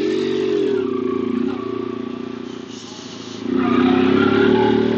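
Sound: Yamaha XTZ 750 Super Tenere motorcycle engine running

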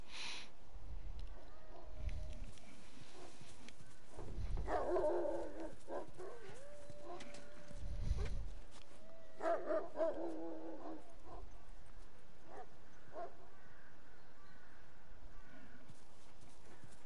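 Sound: dogs barking in the video game The Last of Us

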